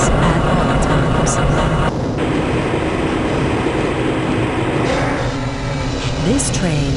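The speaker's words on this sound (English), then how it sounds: "This train is inbound from the Area 8 topside dormitories to the Central Transit Hub in Area 9" Train rolling through the Black Mesa transit system in the video game Half-Life: Blue Shift, a steady, loud rumble and rattle of the rail car with mechanical squeals near the end, under a faint announcer voice.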